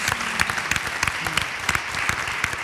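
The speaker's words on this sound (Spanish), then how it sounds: "Un aplauso para ella también" Audience applause at a Spanish film awards interview event, a dense, loud wash of clapping hands throughout, with faint voices underneath.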